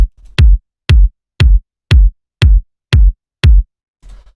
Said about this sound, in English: The first sound here is this kick